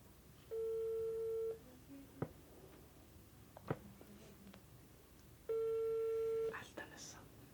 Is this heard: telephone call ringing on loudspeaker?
yes